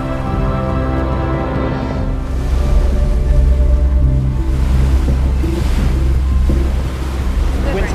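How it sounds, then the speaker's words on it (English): Strong wind roars and waves slosh around a boat crossing open water on an expedition in Africa, a loud continuous wash of water and buffeting wind noise throughout. "Wind's picking up. It's starting to pick up as it comes around there."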